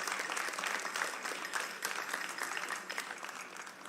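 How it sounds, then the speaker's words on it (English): A crowd at a national science quiz final applauds sponsors, a dense, sustained wash of many hands clapping at moderate distance with no speech over it. "A round of applause to all our scholarship sponsors."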